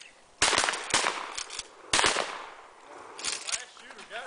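Gunfire in a video game: a loud burst of rapid shots, a short pause, then another burst, followed by quieter scattered pops with faint background noise.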